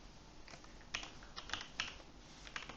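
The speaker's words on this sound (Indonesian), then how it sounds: "Nah, kita bisa ketik aktif" Sparse, soft clicks of typing on a computer keyboard, a handful of separate keystrokes and short bursts at an uneven pace, quiet and close, with no talk.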